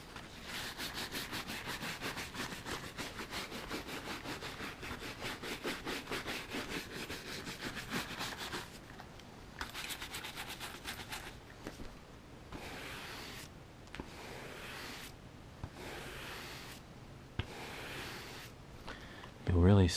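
Dirt and grime are scrubbed off worn leather shoes with fast, close, rhythmic brushing strokes, later slowing into separate longer rubbing passes, soft and intimate.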